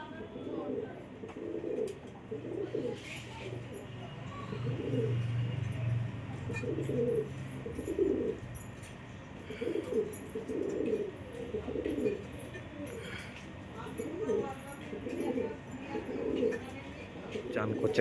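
Male pigeons cooing while bathing in a pigeon house, repeated soft rhythmic coos close by, with faint chirps and background noise.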